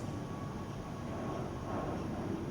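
Airplane passing overhead, a steady broadband jet roar that holds at an even level throughout, distant and continuous with no other sounds.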